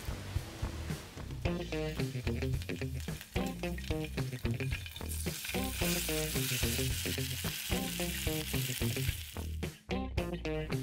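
Diced bacon frying in a pot with a little meat juice, a loud, steady close sizzle and crackle with stirring scrapes, building denser midway before a brief drop near the end; no talk.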